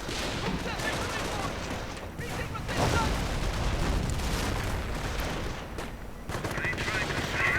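An American .30 caliber machine gun fires during a World War II strategy game battle, bursts of rapid gunfire mixed with other battle noise in a dense, continuous din, with a commentator talking over it.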